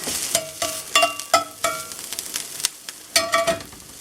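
Onions frying in a butter skillet, a soft sizzle under repeated scraping and clinking of a utensil stirring against the pan, close and irregular.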